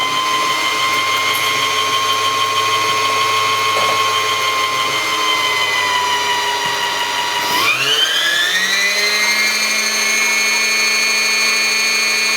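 A Singer Heavy Duty sewing machine winds a bobbin with a steady, loud motor whine that holds an even pitch, dips briefly, then rises to a higher, faster drone and runs on alone.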